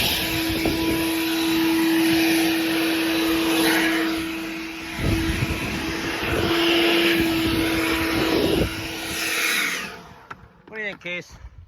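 Compressed air blasts dust off the windows of a farm machine during a bean harvest, a loud, roaring hiss with a steady tone that dips briefly twice and then cuts off, followed by a short voice.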